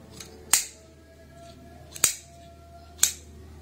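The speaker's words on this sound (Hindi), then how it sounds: "इनको हम इस तरीके से काट देंगे।" Scissors cutting small pieces of waste cloth, three sharp separate snips about a second and a half apart, close and crisp over a quiet background.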